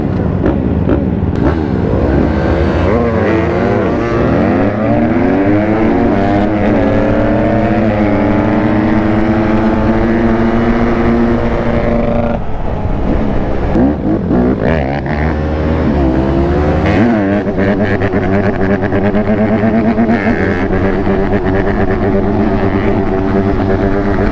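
Honda 150 motorcycles racing close by, their loud engines revving hard with pitch climbing steadily through the gears, briefly dropping at shifts, then winding up again for the whole stretch.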